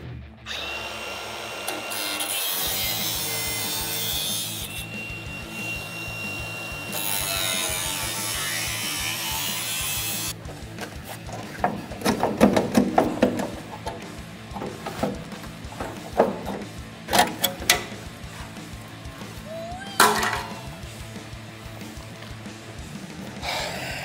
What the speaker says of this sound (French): Bon, je vais attaquer à la meuleuse pour voir